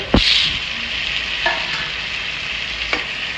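Green chilies sizzle steadily in hot oil in a pan for dried fish curry, a continuous close frying hiss broken by a few sharp clinks of a spoon stirring against the metal.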